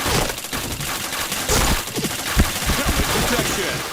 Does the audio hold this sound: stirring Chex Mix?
no